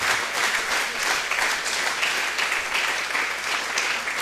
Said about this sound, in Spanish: Démosle un fuerte, pero fuerte aplauso al Señor